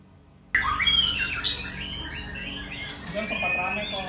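A competition white-rumped shama (murai batu) bursts into loud, close, rapid calls: sharp squawks, chirps and whistled phrases that start abruptly and run on without pause.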